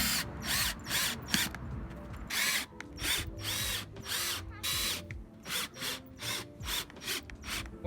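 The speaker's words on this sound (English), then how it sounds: "Then on each of your marks, you're going to put in a screw." A power drill drives screws into a wooden raised garden bed in repeated whirring bursts of about half a second each, near and loud, with short pauses between them.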